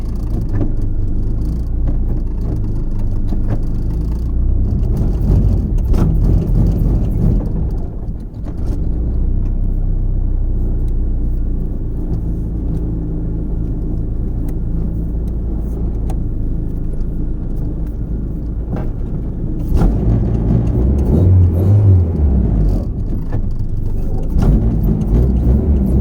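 A Honda H22 engine drones steadily from inside a moving car, a loud, low continuous hum that swells and grows rougher under acceleration toward the end.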